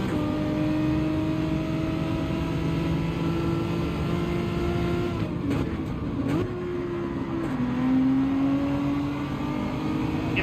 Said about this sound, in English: That Citroen has so much acceleration though.